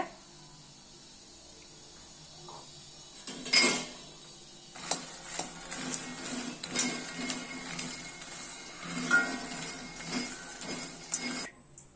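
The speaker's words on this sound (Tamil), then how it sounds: "இப்போ மக்கானா வறுத்துக்கலாம். ஸ்லோ ஃப்ளேம்ல." Makhana (fox nuts) dry-roast in a pan over a slow flame. Near-silence gives way to a gentle, uneven rattle and scrape as the puffs are tossed, with a brief louder clatter early on.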